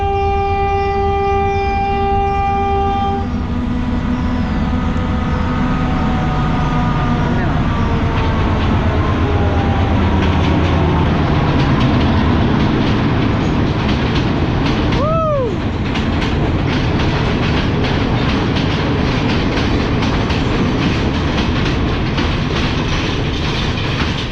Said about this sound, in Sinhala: මේක යටින් තමයි මෙතන යටින් තමයි මේ කෝච්චිය යන්නේ.